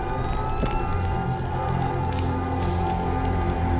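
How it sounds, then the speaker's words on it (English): Siren in the video game S.T.A.L.K.E.R. 2, an American-style emergency wail heard faintly and steadily behind a dense, noisy game ambience, with no talking. "That's also an American sounding siren."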